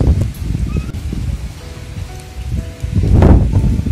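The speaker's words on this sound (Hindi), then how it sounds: "बहुत ज्यादा तेज हवा चल रही है।" Gusty strong wind buffets and rustles steadily across a terrace garden, swelling louder near the end, with a soft patter of light rain beneath it.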